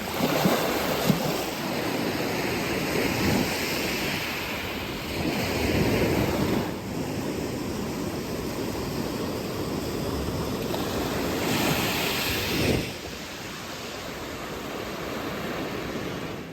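Pacific Ocean surf breaks on a beach on Catalina Island, a steady loud wash of waves with a few swelling surges, close by and continuous, with a wind rumble.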